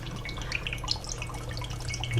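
A Bloody Mary cocktail is poured, making soft, close liquid splashing and dripping sounds over a faint low hum.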